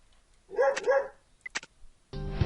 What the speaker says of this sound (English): Doggy, what did you find?